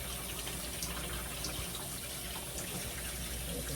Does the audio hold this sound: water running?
yes